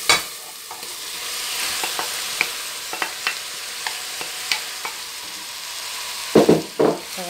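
Meat for a Fez-style Eid kebab sizzles steadily in a pan, with scattered scrapes and clicks from stirring and two louder clattering bursts near the end; no one speaks.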